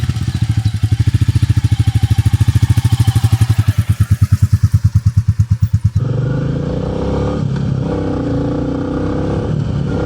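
A Royal Enfield Meteor 350 motorcycle thumps along with a loud, steady pulsing single-cylinder beat close by for about six seconds, then gives way to a broad, constant rushing roar of riding wind and road noise.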